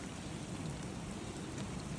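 Steady rain pours down at the start of a nor'easter on the US East Coast, a dense continuous hiss of drops hitting surfaces with no voices.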